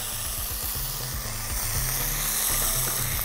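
Pieces of chicken breast sizzling steadily in a hot frying pan, a dense, close, continuous hiss with a constant level throughout. A low droning hum runs beneath it.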